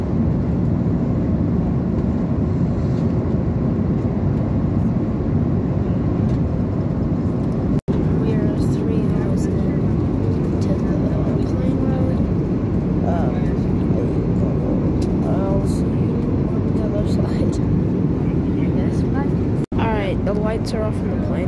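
Steady loud broadband cabin roar fills the whole stretch during descent for landing, a continuous airplane engine drone with a couple of brief clicks.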